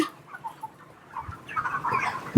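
Chickens on a poultry farm give a few soft, scattered clucks at close range, growing slightly busier toward the end, with no talk.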